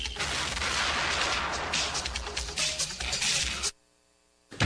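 A cannon firing effect in a Filipino AM radio jingle, with dense booming blasts and crackling bursts lasting several seconds, then a brief silence before sound resumes.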